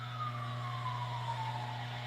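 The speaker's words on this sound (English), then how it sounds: "Sirens going off." A siren wails in the distance, its tone sliding slowly downward over a steady low engine hum, faint and continuous.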